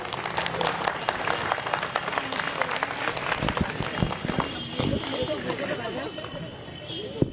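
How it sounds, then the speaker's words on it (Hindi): A crowd at a political gathering breaks into loud, sustained clapping for Saif Pathan, dense rapid claps mixed with chatter that gradually thins out toward the end. "सैफ पठान के लिए एक जोरदार तालियां।"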